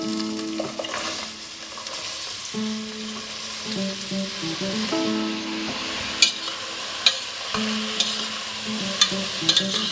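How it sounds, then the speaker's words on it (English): Chopped vegetables sauteing in a saucepan, sweating down with a steady soft sizzle, occasional scrapes and stirring clinks of a utensil against the pan, close and fairly quiet. "I saute everything in my saucepan until really beautifully sweated down"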